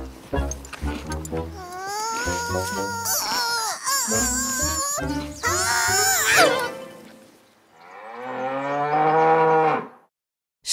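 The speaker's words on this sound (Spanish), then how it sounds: "Vaca. Cow." A big brown cow moos in long, drawn-out, wavering calls, several in a row, loud and close, ending in a final sustained low moo before silence.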